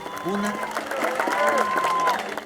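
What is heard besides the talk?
applause at earthquake rescue site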